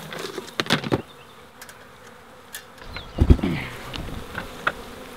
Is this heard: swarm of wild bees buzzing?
yes